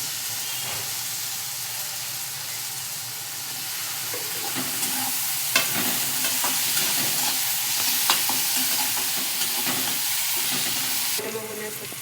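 Tomatoes go into a frying masala paste for a spicy brinjal curry, giving a loud, steady sizzle and hiss with occasional stirring scrapes and clinks throughout.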